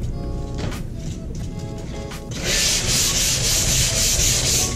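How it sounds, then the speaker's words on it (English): Sandpaper rubs over a gesso-coated canvas in a continuous scratchy hiss, which grows louder and brighter about halfway through. "So I'm gonna sand it with this and this and put another coat of gesso."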